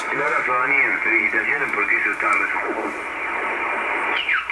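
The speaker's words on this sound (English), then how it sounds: "So you see lots of amateur signals." Single sideband amateur radio signals on the 28 MHz band, garbled warbling voices and pitch-shifted chatter through a receiver, loud and continuous with hiss and a brief sliding tone near the end.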